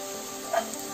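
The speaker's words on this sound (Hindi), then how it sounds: "अभी प्याज का कलर चेंज होने लगा है, लेकिन अभी हम इसे और फ्राई करेंगे" Sliced onions sizzle steadily in hot oil in a pan, browning toward golden, with a constant close frying hiss and a brief louder crackle midway.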